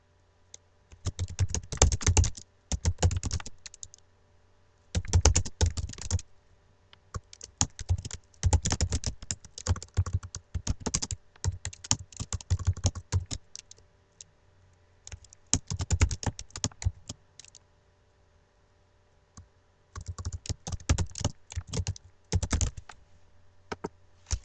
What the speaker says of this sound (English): So you're going to type in your new title that you want for the dependent variable